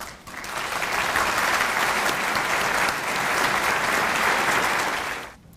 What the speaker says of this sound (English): please stand and let us applaud you for another outstanding year